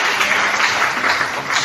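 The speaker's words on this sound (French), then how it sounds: "on acclame le Seigneur" Worshippers in a congregation clap together in acclamation of the Lord, a thick, even wash of applause from many hands, sustained and fairly loud throughout.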